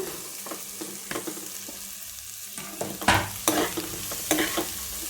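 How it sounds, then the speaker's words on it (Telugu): Beans frying in a pan with turmeric, stirred now and then with a spoon; a steady close sizzle runs throughout, with louder scraping stirs in the second half and no talking. "బీన్స్ కూడా వీటితో పాటు వేగిపోతాయి"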